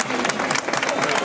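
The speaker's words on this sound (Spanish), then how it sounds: "Fuertes aplausos." A crowd applauds a prize winner at a high-heels race during the Telde carnival in 2024, dense, loud and continuous clapping close at hand.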